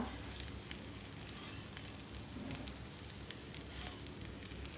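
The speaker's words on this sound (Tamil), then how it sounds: "அம்மா பாருங்க வெண்ணெய் தோசை சுடுறா நல்லெண்ணெய் வந்து மேலே அளவு விட்டுட்டா" Butter dosa made with wheat flour and urad dal cooking on a hot griddle with sesame oil drizzled over it, a faint steady sizzle with scattered tiny crackles and no voices.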